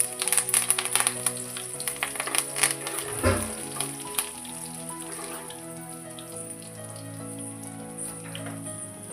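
Crushed garlic, ginger and curry leaves hit hot oil in a pan, giving a bright, steady sizzle with crackling pops that is loudest early and settles into a continuous fry.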